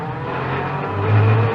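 A hypercar pulls away under throttle, its engine note swelling in a short, close, rising drone from inside the cabin.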